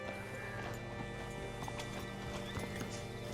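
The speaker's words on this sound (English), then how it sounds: "Hitch your horse up here." Horse hooves clip-clop steadily at close range in the Red Dead Redemption 2 video game, a continuous rhythmic clatter with occasional faint whinnies beneath a dense ambient bed.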